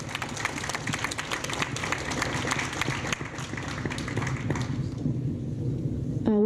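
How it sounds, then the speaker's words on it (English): Audience applause for conference panelists at a WiMAX industry summit, steady dense clapping filling the hall, thinning toward the end as a brief tone sounds. "let's give all the panelists a round of applause"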